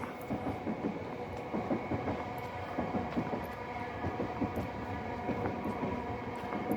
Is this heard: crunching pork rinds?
no